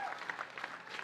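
Tennis crowd applauding during a deep match tiebreak in a doubles match, a steady wash of clapping that holds through the moment at a moderate distance.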